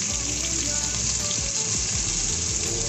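Onion and marinated meat sizzle steadily in a hot pan, a dense continuous frying hiss with a few soft stirring scrapes, close and loud throughout.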